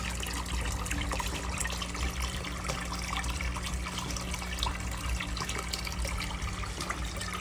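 Water trickling into a small backyard goldfish pond stocked with comet goldfish, a steady close splashing and bubbling that stays level and continuous throughout, with no voices.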